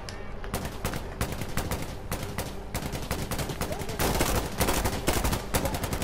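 Rapid, dense bursts of automatic gunfire in Insurgency: Sandstorm co-op on PS4, loud and close, shots crackling in quick succession throughout with a voice talking at points.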